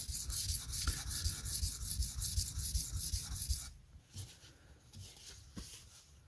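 Steady scraping of a Spyderco Parata's heavily bellied blade being sharpened, a close continuous rasping rub for several seconds that stops abruptly, leaving a few faint light scrapes and taps afterward.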